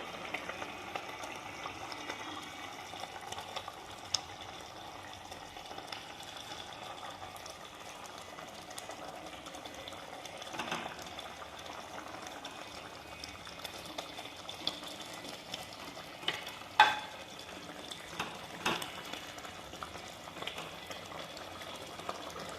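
Pieces of elephant foot yam shaped like fish fry in a pan for a curry, giving a steady, soft sizzle and crackle throughout with a few sharper pops and no talking.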